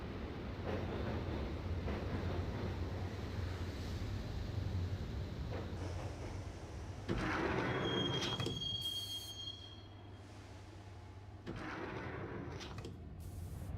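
A subway train rumbles along in the Max Payne video game, wheels clattering and squealing steadily, with sliding-door hisses and a sharp high metallic screech partway through as the ride continues.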